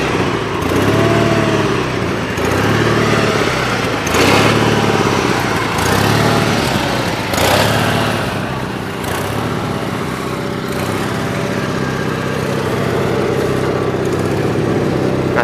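A Ford 818 tractor engine cranking over and then running on its own, a loud, close, steady mechanical drone with repeated surges and knocks, and no talking.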